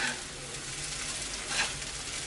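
Veg Hakka noodles with spring onions stir-fry in a hot pan, giving a steady close sizzle with a brief swell of tossing and stirring, no voices.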